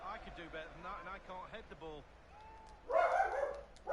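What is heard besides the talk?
dog barking in the house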